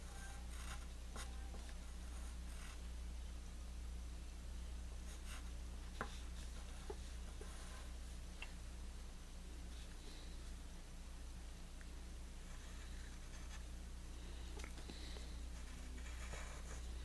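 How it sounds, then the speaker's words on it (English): A pen scratches across paper in soft, continuous strokes while a Gigantamax Snorlax is drawn, faint and close against a steady low background hum. "next up, you just have to draw the flower garden here"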